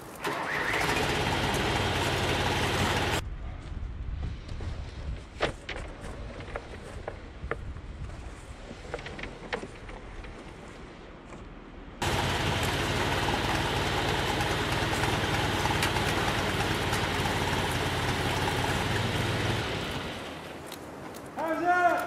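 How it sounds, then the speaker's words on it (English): A tractor engine drones loud and steady while pulling big wire during house building, its running broken by a quieter middle stretch with clicks and handling sounds before the engine roar returns, with voices speaking at times. "All right, tractor."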